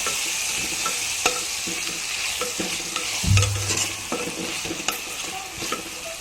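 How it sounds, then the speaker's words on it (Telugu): Cucumber and potato curry frying in a pan, stirred steadily with a utensil; a continuous sizzle with scraping strokes and a louder clunk near the middle, no talking. "అవి రెండు మిక్స్ చేసుకుంటూ ఉండాలి"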